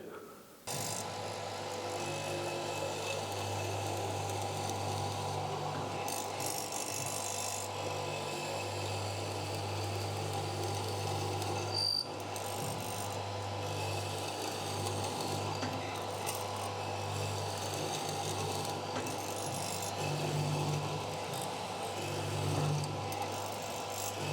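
Hollow chisel morticer cutting a mortise into a clamped wood workpiece: a steady, loud motor drone with rasping, grinding chisel bites layered on top, running unbroken for the whole stretch with no talk.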